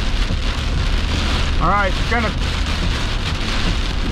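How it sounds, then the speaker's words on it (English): Steady heavy rain pours down inside a storm's rain shaft during a storm chase in Iowa, a dense continuous hiss close around, with a brief voice speaking partway through. "I'm in the rain shaft."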